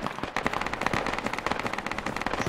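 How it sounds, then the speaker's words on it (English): Rapid sustained machine gun fire in the military shooter Project Reality, dense rattling bursts of close shots with a few heavier distant booms mixed in, no talking. "There was a machine gun. Well, quite automatic weapon."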